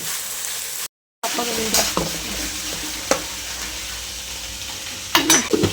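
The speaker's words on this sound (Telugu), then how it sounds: "అది కూడా పచ్చి వాసన పోయే వరకు కాస్త ఫ్రై అవ్వాలన్నమాట" Onions or aromatics frying and being stirred in a pan, a steady close sizzle with scraping stir strokes, a brief dropout near the start and a louder scrape toward the end.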